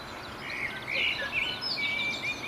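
Faint birdsong near Washford railway station, several thin, high chirps and warbles over a soft background hum of distant road traffic.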